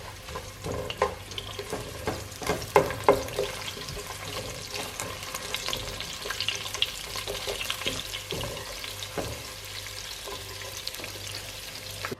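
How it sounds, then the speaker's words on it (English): Chopped onions frying in a pan for daal chawal, a steady close sizzle with scattered crackles and occasional stirring scrapes, no talk over it. "Now, when we fry these, we're not going to fry them until they're golden."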